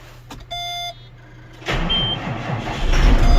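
A 7520 tractor engine cranks and fires up at about 1.7 s after a few short beeps, then settles into a steady, moderately loud idle.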